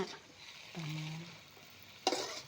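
Chinese kale is stir-fried in a pan, giving a soft sizzle and a faint tonal hum in the middle, then a sharp burst of sizzling stir noise near the end. The whole thing is quiet and heard close.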